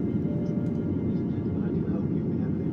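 Steady, loud low-frequency roar of an airplane cabin in flight, a continuous engine and airflow drone filling the space without breaks.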